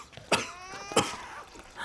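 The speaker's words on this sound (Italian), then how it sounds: "Ma sono giorni che tossisci." A man with a lingering illness coughs twice in quick succession, harsh close coughs with a strained, breathy rasp and a brief pause between them, with no talking.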